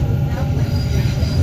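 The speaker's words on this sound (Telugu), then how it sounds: "మన మెట్రో ట్రైన్ ఇప్పుడే వచ్చేస్తుంది" A metro train running on its rails, with a loud, steady low rumble and wheel noise heard from on board, continuous throughout.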